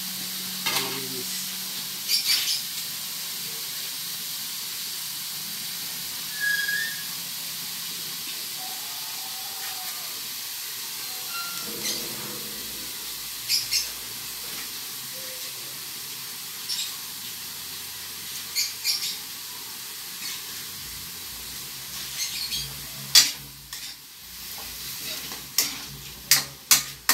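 Bicolano dinuguan stew cooking in a pan, a soft continuous sizzle and hiss with scattered stirring scrapes and knocks that grow more frequent toward the end.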